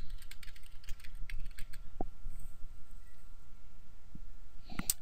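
Computer keyboard keys clicked in quick light bursts while typing a first and last name into a word processor, soft and fairly close, followed by a pause and a few isolated taps.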